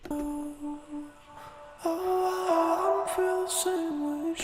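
An isolated singing voice with echoing repeats that trail off into a soft, lingering reverb wash.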